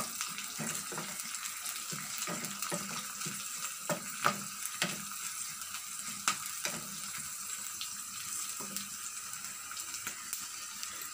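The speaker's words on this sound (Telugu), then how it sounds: "ఇప్పుడు జీలకర్ర, ఆవాలు, మినపప్పు వేసుకుందాం. కొంచెం వేయించుకుందాం." Cumin, mustard seeds and urad dal fry in hot oil in a pan, a steady hissing sizzle with small popping crackles scattered throughout, close and moderate in level.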